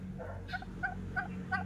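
Backyard farm turkeys gobble in several short, rhythmic bursts, close and fairly clear over a low steady background hum.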